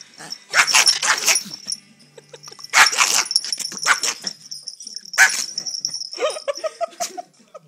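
Puppy barking in several sharp, high yips and short barks in bursts, close and fairly loud, with whimpering between and faint background sounds.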